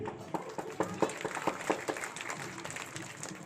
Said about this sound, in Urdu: بچوں سے درخواست کروں گا کہ تالیاں بجائیں